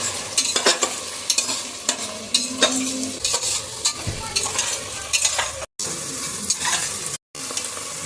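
Onions sizzle and fry in a pan ahead of the ivy gourd (tondekai) for tondekai bath, with a steady close hiss and repeated scraping stirs. No voices, and there are two very brief dropouts near the end.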